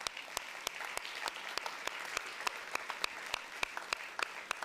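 An audience applauds as a bank director is called to the stage at a short-film contest awards ceremony, with sparse, distinct claps ringing out rhythmically over a soft hall background, fairly quiet and distant.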